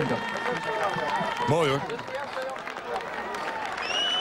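Crowd applause and cheering at the Strongest Man of the Netherlands 2011 strongman contest in Surhuisterveen, steady outdoor clapping mixed with crowd noise under a commentator's voice.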